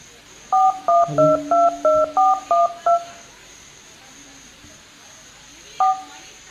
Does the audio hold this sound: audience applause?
no